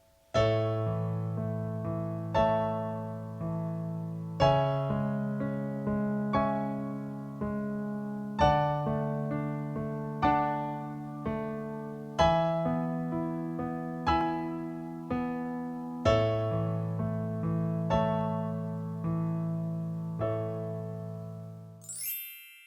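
A piano plays a steady sequence of sustained chords, each struck cleanly and left to ring as the harmony shifts, with no talking.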